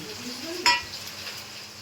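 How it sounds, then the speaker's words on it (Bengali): Onions fry in a pan under a low, even sizzle, with one sharp metallic clink of a utensil against the pan partway through and a soft scrape of stirring. "পেঁয়াজ ভাজা হচ্ছে"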